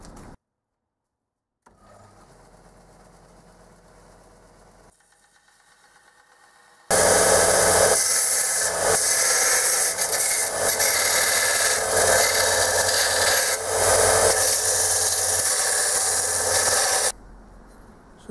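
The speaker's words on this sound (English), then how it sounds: "Clean them up on the big sander first, I think." A big powered sander cleaning up freshly cut metal parts in a workshop: a loud, steady abrasive roar lasting about ten seconds, preceded by a quieter motor hum and followed by an abrupt stop.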